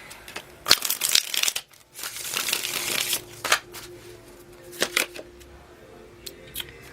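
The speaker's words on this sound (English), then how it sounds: "One shuffle" Tarot cards are shuffled by hand in bursts of crisp riffling and flicking, close and fairly loud, with brief pauses and a few sharp taps between runs, no voices.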